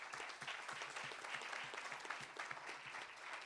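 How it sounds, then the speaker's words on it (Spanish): At an academic debate panel, an audience gives a steady, dense round of applause for a speaker being introduced. It sounds moderately distant and continues evenly without pause. "al cual le pido un aplauso"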